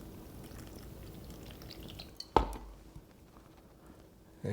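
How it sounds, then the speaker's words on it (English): Water is poured into cornstarch for thickening an oxtail stew: a faint trickle and drip in a quiet kitchen, then a sharp clink of a utensil or dish midway and another knock near the end. "So let's add some water to this."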